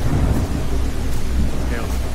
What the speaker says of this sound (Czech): A trochu prší.